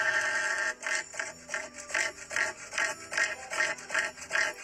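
A cassowary gives a rapid series of rattling, mechanical-sounding croaks in a steady pulsing rhythm, close and clear with no voices over it.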